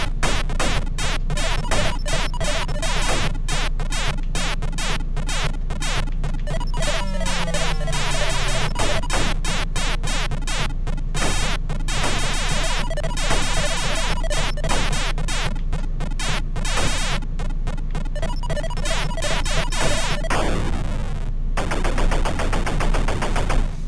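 Shooting in the Atari 5200 game Centipede: rapid, relentless electronic firing blips forming a loud, buzzing stream, with descending tonal sweeps and other game effects layered over a constant drone.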